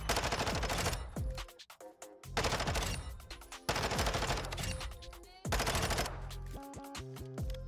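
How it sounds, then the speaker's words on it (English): Bursts of loud automatic assault rifle fire in Call of Duty Warzone come in three or four sustained volleys separated by short pauses, close and dominant, with no talk. "if we want to shoot the gun, we can see if we really wanted to"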